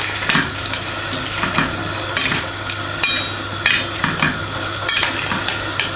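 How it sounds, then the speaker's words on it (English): Food being stirred in a saucepan over medium heat while cooking a Sunday dinner, with a spoon scraping and knocking in repeated strokes against a steady low sizzle, close and clear. "Give that a little stir."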